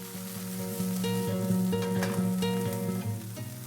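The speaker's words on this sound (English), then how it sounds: "Broccolini. Saute for about a minute." Broccolini sautéing in a pan with ginger and garlic for ginger hoisin noodles, a steady soft sizzle running beneath a tonal musical backing throughout.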